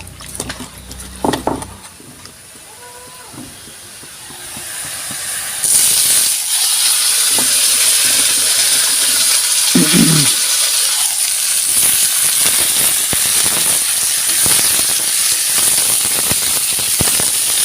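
Sliced ridge gourd and potatoes land in a hot pan with browned onions and start sizzling, beginning with clattering and stirring and then building into a loud, steady frying hiss with scattered crackles.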